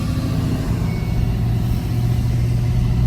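Ford F250 diesel truck from the 2017–2019 range cruising on a fresh tune, a steady close engine drone with a low rumble that holds level throughout.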